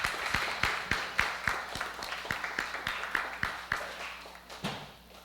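Sparse hand clapping at a pastoral installation ceremony, a couple of dozen distinct claps in a loose rhythm from a small gathering, fading toward the end with no voices over it.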